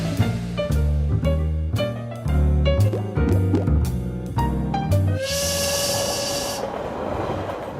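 A train running on a railroad, with rhythmic heavy clanking and rumbling in repeated bursts, then a steady hissing wash with a sustained squeal, heard up close and loud with no talking.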